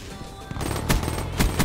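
Rapid automatic gunfire from the video game Black Ops 3 plays through a gaming headset, loud bursts of sharp shots repeating in quick succession with no talking.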